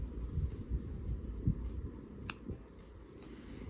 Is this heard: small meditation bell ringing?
no